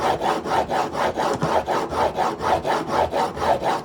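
A plane blade is stroked back and forth on a coarse diamond file, about eight even rasping passes with a steady rhythm, loud and close.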